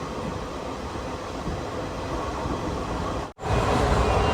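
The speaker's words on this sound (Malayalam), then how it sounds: "ട്രെയിൻ ഇപ്പം മൻമാട് റെയിൽവേ സ്റ്റേഷനിൽ എത്തുന്നത് കൊണ്ടാകാം സ്പീഡ് കുറഞ്ഞു വരുന്നത്." Sleeper-class carriage of a Jabalpur to Coimbatore special train slowing as it approaches Manmad railway station: a steady, close rumble of wheels and wind fills the cabin, with one brief drop in the noise before it resumes.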